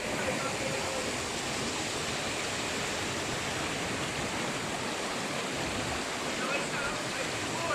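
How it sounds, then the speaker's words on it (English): A small stream rushes beside the Wallibou River near hot springs at the base of La Soufrière volcano, giving a steady, broad hiss of flowing water that stays even and continuous without a break. "This is actually a stream, a small stream by the side of the river."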